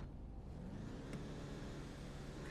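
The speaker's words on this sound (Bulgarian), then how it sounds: "Да, предлагам да чуем звука на тази кола също." A retro car's engine revving in the GTA video game, a steady low rumble that swells briefly in the middle and holds at a fairly quiet level throughout.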